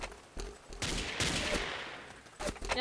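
Bursts of rapid machine gun fire in the video game Ace of Spades crackle in quick succession, loud and close, with short pauses between volleys and no talking.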